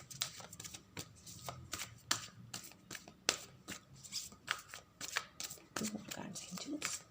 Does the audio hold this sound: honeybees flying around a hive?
no